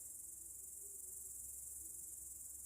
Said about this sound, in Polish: Świerszczyki stereo.